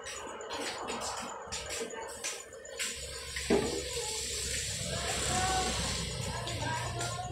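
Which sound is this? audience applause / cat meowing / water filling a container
water filling a container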